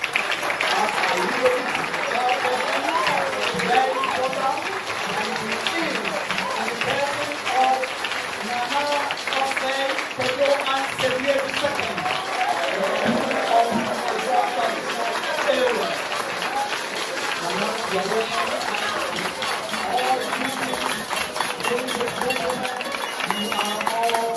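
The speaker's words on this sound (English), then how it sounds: "you will be generous enough and welcome him with a very big round of applause" A large audience at a college centenary launch ceremony applauds at length, dense steady clapping with cheers that carries on without a break.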